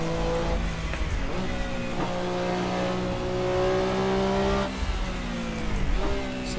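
A Porsche 962C race car in Assetto Corsa, its engine droning loud and steady with pitch rising and dipping through turbo lag, a brief drop and recovery as it shifts, with faint tire noise.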